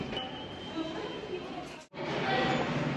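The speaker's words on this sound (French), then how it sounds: "Voilà, on va prendre le métro." A New York City subway train rumbles steadily through a station or tunnel with a broad, continuous roar; the noise cuts out for a moment near the end before surging back, and voices murmur faintly underneath.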